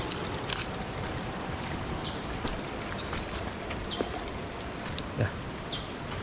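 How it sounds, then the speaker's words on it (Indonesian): A river flows somewhere below a damaged mountain road, a steady broad rushing wash of moving water heard from a distance, with a few faint knocks and clicks scattered over it. "Sepertinya ada sungai di bawah sini."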